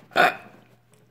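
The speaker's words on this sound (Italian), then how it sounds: "Smettila di ruttare." A short, throaty burp bursts out once during a Minecraft Lucky Wars session, loud and close, then trails off into quiet.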